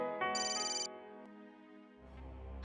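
Electronic telephone ringtone in a home, a steady melodic tone pattern with a higher chime layered in early, ringing fairly loud and close before a low hum rises at the end.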